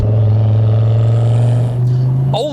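Fiat Coupe 20v Turbo engine pulling under acceleration, a loud steady drone that holds its pitch and builds as the turbo comes alive, with a brief squeal-like sweep near the end.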